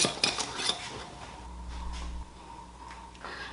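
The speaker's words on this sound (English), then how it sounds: "we're going to put all of the lids back on in order" Lids snapped back onto dye containers one after another, a few sharp plastic clicks and clatters at the start followed by quieter handling and a low hum.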